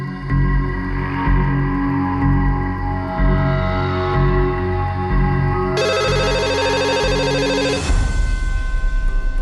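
A telephone rings with a short burst of bright electronic tone over a low, steady background rumble, then cuts off.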